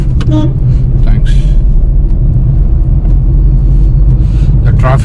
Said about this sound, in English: The traffic here is really hectic.